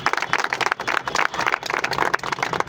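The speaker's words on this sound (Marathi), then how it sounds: "आपण सगळ्यांनी टाळ्या वाजून त्यांचं स्वागत करतो" Crowd of supporters applauding at a gathering welcoming a newly appointed Yuva Sena city chief, dense steady clapping that swells and dips slightly, close and loud.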